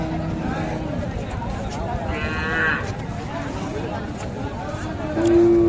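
Cows with calves at a traded cattle market in Dinajpur low repeatedly over steady crowd chatter and bustle, with people talking nearby throughout.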